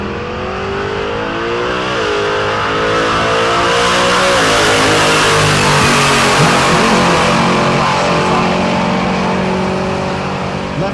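Chevelle drag car accelerating down the left lane at Tulsa Raceway Park during Rocky Mountain Race Week, a loud, close, sustained engine roar climbing through gear changes, with no talking.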